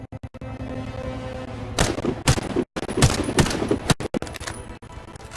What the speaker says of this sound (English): Try and hit the targets while aiming.